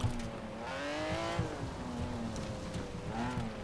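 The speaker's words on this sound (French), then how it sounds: "le bruit des voitures est très bien fait." Car engines and tires in the racing game Forza Horizon 4, including a Ferrari, produce a moderate engine drone with rising and falling revs and tonal whine, shifting pitch smoothly as the car accelerates and eases off.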